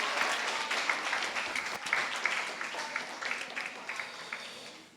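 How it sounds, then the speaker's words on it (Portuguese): A church congregation applauds God during a sermon, with dense, steady clapping from a large crowd that fills the space for the whole stretch and tapers slightly at the end. "Você pode aplaudir a Deus?"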